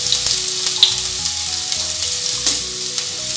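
Urad dal, chana dal and green chili frying in hot oil, a steady close sizzle with a few crackles and stirring scrapes, no talk.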